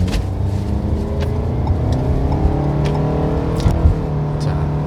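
A Renault QM6 GDe with a gasoline engine accelerates from inside the cabin, a steady rising engine drone with gradually climbing pitch, heard close and continuous while someone talks over it.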